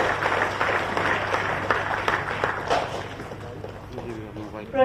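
Applause from an audience in an auditorium at a government appointment-letter distribution ceremony, steady broadband clapping that fills the whole stretch and fades slightly toward the end.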